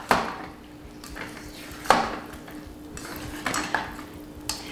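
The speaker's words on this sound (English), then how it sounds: "So now take the fettuccine and toss it in with the sauce" Fettuccine tossed through a Cajun shrimp Alfredo sauce in a pan, heard as a few sharp metallic clinks of utensil against pot amid soft stirring, close and fairly quiet.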